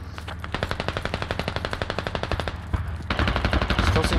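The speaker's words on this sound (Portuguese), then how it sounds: "o tiro parece tão de perto, ele tá atirando lá na frente" Rapid machine gun bursts ring out in a squad-based shooter video game match, a steady string of close shots for about three seconds, then louder, denser overlapping gunfire near the end.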